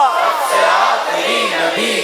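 A crowd chants a religious slogan in unison at a live quiz show event, many voices rising and falling together in a loud, sustained, rhythmic call.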